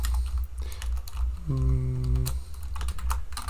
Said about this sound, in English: Keyboard acting up.